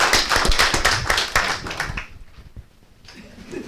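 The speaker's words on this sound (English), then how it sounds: "So one more round of applause for these." Audience applause at a school board meeting, a full burst of clapping from a seated crowd that fades out after about two seconds, followed by quiet room noise and a faint return of sound.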